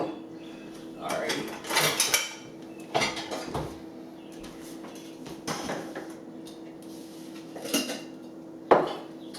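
Glass jars with plastic lids handled on a kitchen counter, with repeated clinks, clacks and knocks of glass and lids coming in separate bursts. Voices talk quietly in the room.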